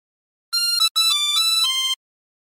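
A 24-hole tremolo harmonica plays phrase 5 of Bella Ciao, a short run of reedy, wavering notes lasting about a second and a half, heard close and alone.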